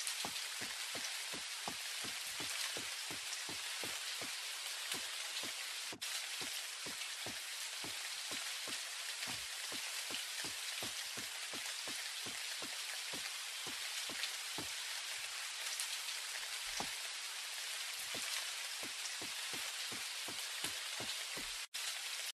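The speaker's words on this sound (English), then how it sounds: "this is just a simple way to just put in some rain inside Unity" Steady rain in a Unity game scene makes a constant, even hiss of falling drops. A regular patter of soft clicks runs through it, with no voices.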